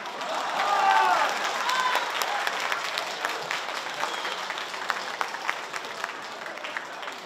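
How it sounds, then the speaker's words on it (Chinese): Audience applause at a 2024 Toronto Dragon Festival awards banquet, a sustained wash of clapping from a crowded hall that swells early and then holds steady, with a voice briefly heard at the start. "掌声在哪里啊？"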